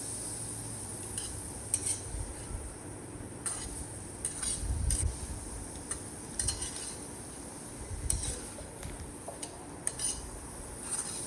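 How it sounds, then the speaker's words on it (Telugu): Vegetable curry being stirred in a pan, with a utensil scraping and clinking against the metal at irregular intervals over a low, steady sizzle, close by and with no voices. "ఆ విధంగా బాగా కలుపుకోవాలి."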